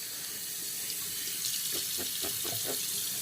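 A bathroom tap runs steadily into a sink while a freshly shaved face is rinsed, a close, soft hiss of flowing water broken by a few quick splashes near the end, no voices.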